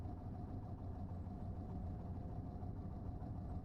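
A faulty vehicle engine in Cataclysm: Dark Days Ahead runs as a steady, low, muffled idle rumble, faint and continuous with no other sounds.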